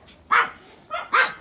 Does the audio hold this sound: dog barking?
yes